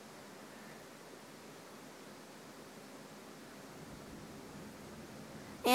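A Fanimation Crease ceiling fan with plastic blades and housing runs at medium speed, giving a steady, soft, broadband whoosh of wind noise with no talking.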